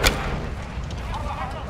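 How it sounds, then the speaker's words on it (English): A single sharp grenade launcher blast in Call of Duty: Modern Warfare 2 opens with a loud crack, then trails into a low rumbling battlefield wash, with faint voices in the background. "They're launching grenades!"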